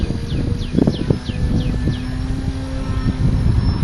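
An RC model Harrier aircraft flies close by, its steady motor drone filling the air with a continuous whine and repeated rising-falling tonal sweeps as it maneuvers, loud and alone without talk.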